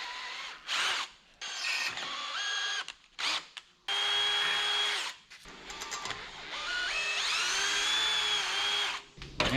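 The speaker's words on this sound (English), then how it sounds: "Let's drill her out." A power drill whines loudly up close, turning slowly under heavy pressure, stopping and restarting several times, its pitch rising and falling as it bores a hole during a flatbed build on a 1963 Loadstar truck.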